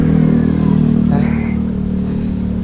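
Motorcycle engine running close by outdoors, a loud steady mid-pitched rumble with a brief rev in the middle before settling back to idle.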